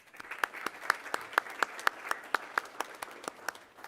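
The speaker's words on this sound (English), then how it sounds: "Let's give her another round of applause." A small audience at a school board meeting claps for Karen Salais, with distinct, fairly regular sharp claps standing out over a soft, modest round of applause.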